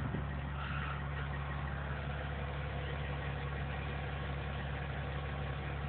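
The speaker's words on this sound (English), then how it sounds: "Little Cummins motor in there." A small Cummins diesel engine idling in a Case 500 tractor, a steady low rumble with an even mechanical hum, holding constant and close throughout with no voices.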